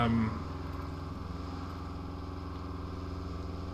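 A heavy truck engine drones steadily in low gear, grinding through deep sand in the Roadcraft video game, a constant low rumble with a brief louder burst at the start.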